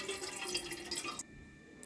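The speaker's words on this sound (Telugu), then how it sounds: "ఇప్పుడు నార్మల్ వాటర్ వేసి బాగా వాష్ చేయాలి." Water splashes and trickles steadily as something is rinsed, then stops abruptly, leaving near silence with a faint drip at the end.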